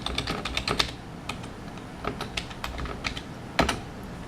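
Typing on a computer keyboard while entering a root password during setup of a 7 Days to Die dedicated server, with quick bursts of close, crisp keystrokes separated by short pauses.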